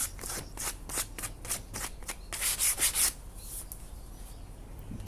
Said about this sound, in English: a little bit of hand sanding to finish off